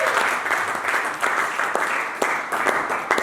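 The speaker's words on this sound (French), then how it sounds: "Celui qui croit à ça, il acclame Jésus." A church congregation applauds steadily as a dense, loud crowd clapping, with small swells and bursts of cheering through the whole stretch and no clear speech.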